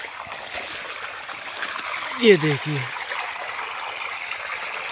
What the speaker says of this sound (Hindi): देखिए पानी चल रहा है